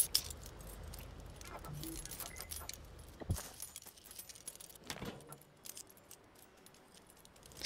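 In the video game Stray, a cat picks up a set of keys, giving repeated metallic jangles and clinks at irregular intervals over quiet game ambience.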